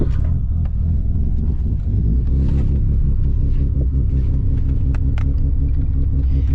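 A Mazda RX7 rotary engine rumbles steadily at close range, a dense low drone with a few brief louder swells and no talking.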